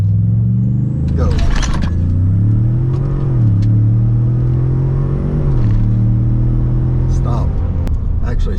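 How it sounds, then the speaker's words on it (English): Close, loud engine roar as a car launches from a standstill in four-wheel drive with traction control off, revs climbing and dipping through gear changes, with brief tire noise and someone talking over it. "I am launching in four-wheel drive with traction control off"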